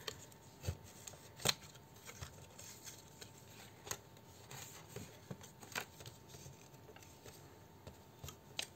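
Old craft paper being folded crackles and crinkles in sharp, irregular snaps and rustles, close and quiet with no talk.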